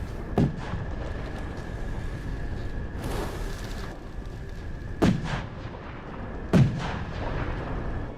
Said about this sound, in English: Airstrike is in, it will fall short.